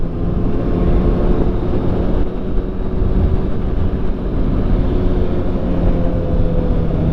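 A Kawasaki ZX6R sport motorcycle on a test ride, its engine a loud, unbroken drone mixed with heavy wind rush for several seconds, with no voices.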